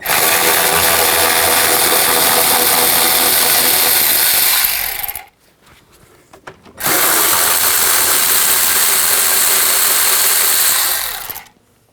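An 8mm socket on a power tool backs out fan shroud bolts on a Ford E-250 van, with two long, loud, close bursts of steady high whirring separated by a brief quiet gap.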